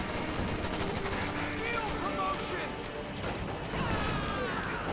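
Rapid gunfire bursts from a multiplayer Company of Heroes 2 battle, with US forces trading fire against German grenadiers, crackling steadily throughout amid busy battle noise while a commentator talks over it.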